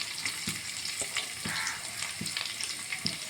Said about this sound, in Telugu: దానిలో కొంచెం జీడిపప్పు కూడా వేసుకుని బాగా ఫ్రై చేసుకోండి ఇప్పుడు ఉల్లిపాయలు వేసుకుందాం